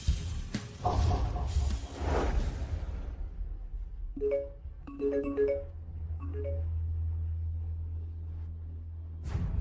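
A telephone rings in a dramatic scene, a few short melodic ringtone chimes repeating after a whooshing swell, fairly clear over a low steady background hum with no voices.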